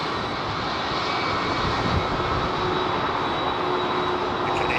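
Airliner jet engines spool up on departure at London Heathrow, a loud, steady broadband roar with a thin sustained whine riding on top, holding strong throughout with no talk.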